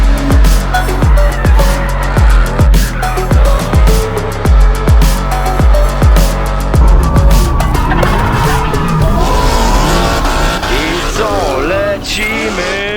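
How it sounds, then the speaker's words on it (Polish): A racing car at the Słomczyn track during a Speed Games event, with repeated sharp engine revs and gear changes in a steady rhythm, then tire squeal and skidding as it slides through a corner, loud and close. "Kamil Fastek, widać, że tutaj jest pełna kontrola nad e, samochodem"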